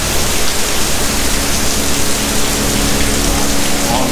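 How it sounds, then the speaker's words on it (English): Heavy rain pours down at the Man Mo Temple in Hong Kong, a loud, steady, unbroken hiss of water close by, with no pauses and no talking. "as you can see the rain is just pouring down here"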